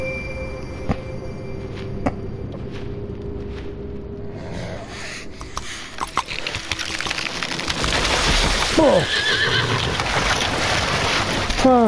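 A horse whinnies in distress in Assassin's Creed Valhalla over heavy rain-like noise and cracking ice, building louder toward the end with several high neighs.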